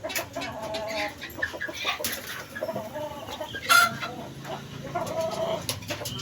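Sweater-breed gamefowl chicks, a backyard-raised cross, cluck and peep in close, short bursts over steady farmyard background noise, with one louder call partway through.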